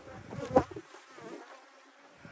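Honeybees buzz around an open hive during an inspection, a low steady hum with a brief louder swell as one bee passes close, then a fainter drone.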